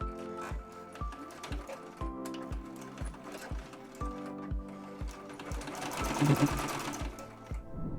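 A sewing machine stitches the side seams of a fabric wallet in short, rhythmic bursts of mechanical whirring, with brief pauses between runs, close and clear.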